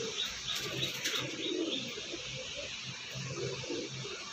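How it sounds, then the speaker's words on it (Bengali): Pigeons in a loft coo in soft, low repeated phrases, with light chirps and occasional wing flutters, moderately close in a quiet setting. "ফুলসিরা লাইনে পায়রা আছে এটা।"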